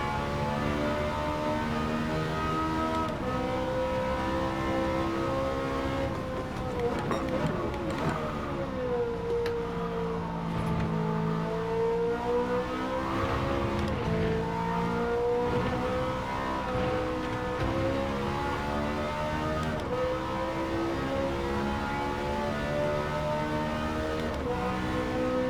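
A race car engine in Gran Turismo 7 revs high and continuously, its whining, harmonic pitch sliding down and climbing again through gear changes at a steady, loud level.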